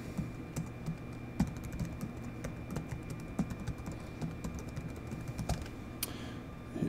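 Quiet keystrokes on a computer keyboard, an irregular run of soft clicks with a few sharper taps, close and faint, heard alone.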